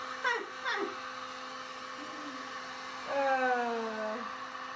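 A hair dryer blows paint across an abstract art piece, a faint whirring motor whine that rises and falls in pitch in a few short bursts, steady and close.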